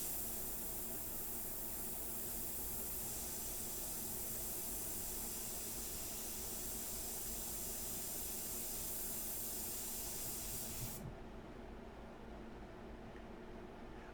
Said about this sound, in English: the Vega is a great airbrush